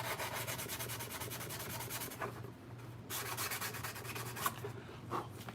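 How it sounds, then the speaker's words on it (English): Sandpaper rubs back and forth along a seam of a Mandalorian helmet build, a close, steady rasping scrub with brief pauses and a quieter stretch in the middle. "it's probably not sounding as loud as the other sandpaper was"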